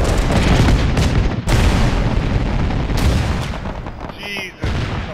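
In the Arma video game, an anti-aircraft site is blown up with loud, booming blasts and heavy rumbling gunfire. Sharp cracks punctuate a dense roar, and a voice briefly cuts through near the end.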